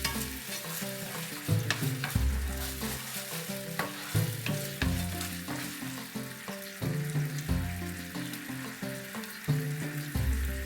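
A spoon stirs soy sauce, vinegar and sugar in a hot pan, scraping and clinking steadily over a continuous sizzle as the sauce cooks and thickens; the sound is close and unbroken, with no voices.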